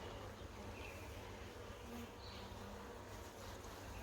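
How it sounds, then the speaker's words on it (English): Nurse honeybees buzz around a hive box at a South African apiary, a steady, dense hum of many bees close by, with no speech. "Just getting these nurse bees back in the box"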